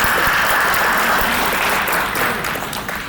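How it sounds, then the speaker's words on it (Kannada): An audience at a film success press conference claps loudly, a dense burst of applause that gradually thins and fades toward the end, no speech over it. "ಅದಕ್ಕಾಗಿ ನಾವೆಲ್ಲರೂ ಜೋರಾಗಿ ಚಪ್ಪಾಳೆ ಕೊಡ್ತೀವಿ."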